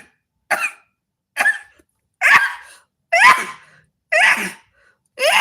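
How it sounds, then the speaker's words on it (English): Sneezing from a person: six sharp bursts spaced about a second apart, each loud and close, with breathy, throaty texture and brief silence between them. "I sneezed."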